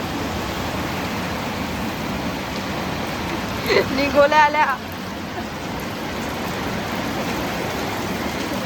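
Continuous rain hisses steadily in the background while a short burst of voices rises briefly in the middle.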